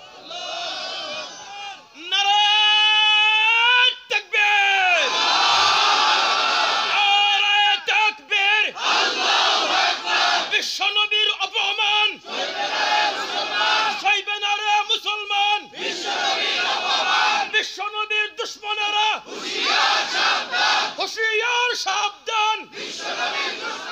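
A large crowd at an Islamic waz sermon shouts takbir in loud, surging waves after one raised voice at the start. The chants come in dense repeated bursts separated by short gaps, close and overwhelming.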